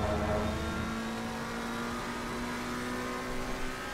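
A McLaren race car engine drones steadily on the Monza circuit in a sim racing game, a continuous mid-pitched hum with a faint whine, holding an even level throughout without any speech.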